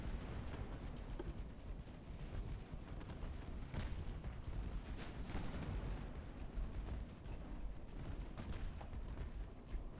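Rumbling naval cruiser gunfire from 9-inch guns in the warship strategy game Ultimate Admiral Dreadnoughts, a dense continuous barrage of booms rolling together at a steady, fairly quiet level with no talking.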